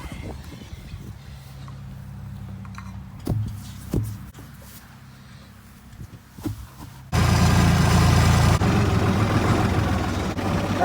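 A farm tractor's engine idles with a steady low rumble before tillage work, a few knocks and clanks over it, then a louder, rougher burst as the engine revs up near the end.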